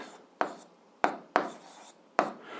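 Pen or marker strokes on paper or a board while fractions are written out by hand: four sharp scratchy strokes, each quickly fading, spaced irregularly and close by, with no talking.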